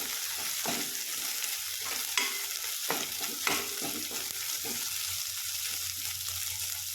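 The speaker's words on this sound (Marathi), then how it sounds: "हिरव्या मिरचीचा ठेचा टाकते हे पण आपण छान भाजून घेऊ" Green chili thecha paste frying and being stirred in a pan for a brinjal bharit, a steady close sizzle broken by several scraping stirs, with no talking.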